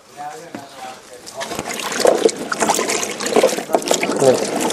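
Water splashes and sloshes as vegetables are swished around in a basin, the gurgling growing louder and busier partway through.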